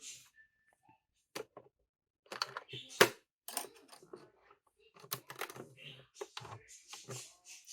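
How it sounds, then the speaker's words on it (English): Short clicks, clacks and small metallic taps come from switching to the zipper foot on a sewing machine, scattered irregularly and close, with a few quiet gaps between them. "Okay, so I'm going to switch to my zipper foot."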